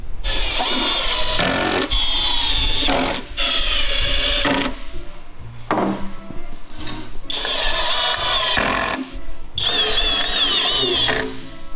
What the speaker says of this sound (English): I'm just gonna screw in the last support